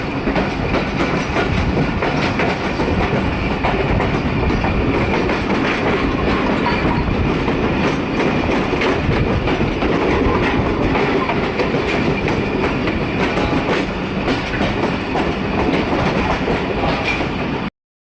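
A Pakistan Railways Millat Express passenger train runs along a branch line, the steady rumble and rhythmic clickety-clack of wheels over rail joints loud and continuous for the whole stretch.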